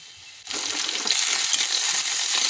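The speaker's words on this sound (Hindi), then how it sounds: "अब दोनों को अच्छे से हम फ्राई करेंगे।" Potatoes and raw bananas fry loudly in a pan with hot oil, a dense steady sizzle that flares up suddenly after a quiet start and stays strong throughout.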